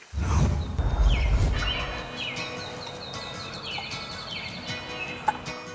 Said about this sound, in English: The turkeys are already gobbling.